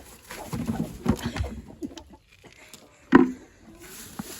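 Soft clucks and low murmuring calls from broody hens in a nesting box come in short bursts, with one sharper squawk partway through, close by in a quiet space.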